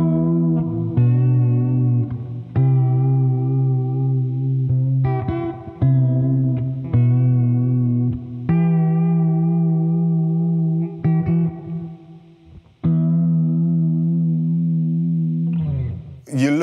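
Electric guitar playing washy, lo-fi background chords through vibrato, delay and Strymon Flint reverb pedals, a series of sustained chords with echoing tails, played alone.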